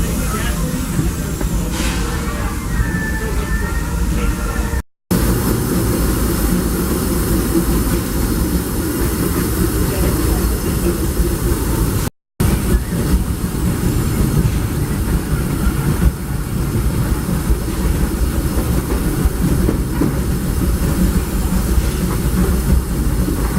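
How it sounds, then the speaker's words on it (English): Disneyland Railroad train cars starting to roll at night, with steady low rumble, hiss and clickety-clack along the rails, continuous and fairly loud, with voices in the background. "the train is about to move soon."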